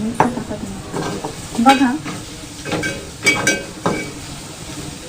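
Root vegetables for a dry Ekadashi fasting stir-fry are tipped into a pan and stirred, with uneven scraping strokes and clinks over a close frying sizzle, and one brief spoken word.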